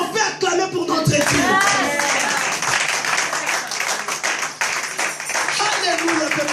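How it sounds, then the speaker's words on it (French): Church congregation clapping and applauding together in worship, a dense sustained burst of many hands with cheering voices, loud and close throughout. "Est-ce qu'on peut acclamer pour notre Dieu?"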